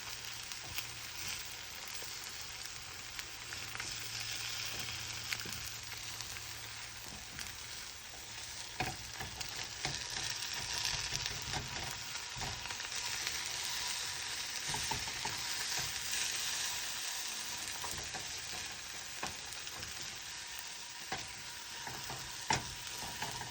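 An egg and potato fry together in a single skillet over reduced heat, giving a steady, moderately loud sizzle for the whole stretch, broken by occasional crackles and utensil stirs, with no talking.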